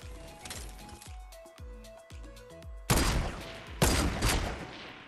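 Fortnite Battle Royale gunfire crackles in the game: a run of sharp single shots with metallic clinks, then two loud bursts of rapid fire, close and punchy.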